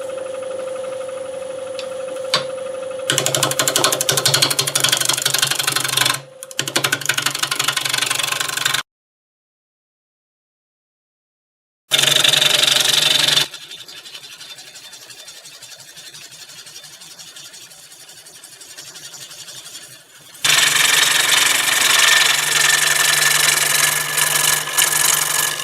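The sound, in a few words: wood lathe spinning a green apple bowl blank at 725 RPM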